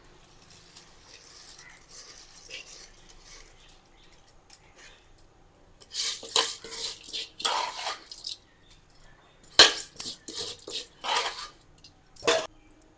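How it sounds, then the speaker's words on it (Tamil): A spoon stirs soaked rice in a pot of boiling water while chicken biryani is cooked, giving scattered close clinks and scraping bursts that come in clusters after a quiet opening. "பொறுமையாக கலரலாம், அப்போ தான் அரிசி உடையாமல் வரும்."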